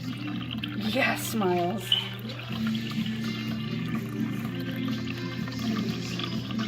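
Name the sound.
Miaustore ceramic cat water fountain running water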